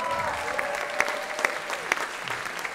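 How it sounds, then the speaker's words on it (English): A school year-end concert audience applauds beginner musicians with a steady patter of clapping, moderately close, over a faint hum of voices. "They deserve a big round of applause"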